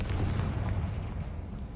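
A dull, muffled blast from the Confringo explosion spell in Hogwarts Legacy, a single low rumbling burst that fades over under two seconds.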